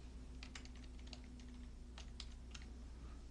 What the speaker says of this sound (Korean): 탭키 누르고 오른쪽으로 갈게요.